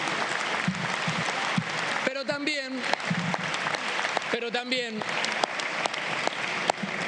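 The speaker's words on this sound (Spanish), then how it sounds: "Para ellos, un fuerte aplauso para acompañarnos en este día." An audience at an Argentine Congress event for organized workers gives steady applause, and a speaker talks over it in two short bursts.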